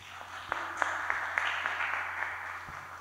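A small seminar audience on history writing gives sparse, scattered applause, with a handful of distinct claps over a low hum; the clapping is faint and thin.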